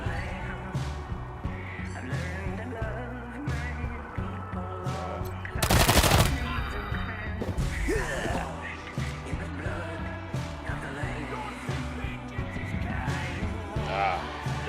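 Gunfire in Wasteland 3 under a steady music and ambience bed, with one sharp, loud burst standing out in the middle of the stretch.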